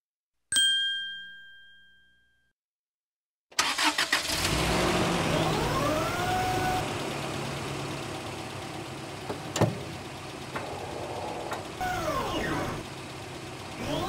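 A cartoon car starts up after a single bright ding: the engine cranks, catches and runs steadily with rising revving sweeps and a few sharp accents, loud and close.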